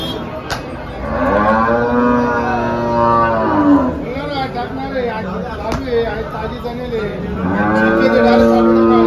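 Cows moo loudly and repeatedly at a crowded cattle market in Dhule, the drawn-out harmonic calls rising and falling over a steady babble of nearby voices and market chatter.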